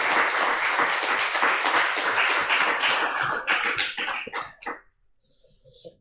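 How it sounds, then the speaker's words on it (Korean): A church congregation applauds to welcome a pastor, dense clapping that thins into scattered individual claps and fades to near silence, followed by a brief soft hiss. "큰 박수로 맞이하겠습니다"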